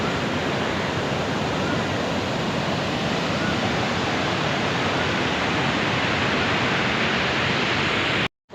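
Water rushes through the Panjnad headworks on the river in Punjab, making a loud, unbroken roar that stays constant until it cuts off abruptly at the very end.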